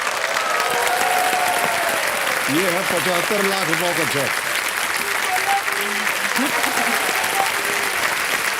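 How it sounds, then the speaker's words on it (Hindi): Studio audience applause rolls on continuously at a televised quiz show, steady and full throughout, while someone speaks over it and music tones rise and fall in the background. "तालियां बज जाए इनके लिए।"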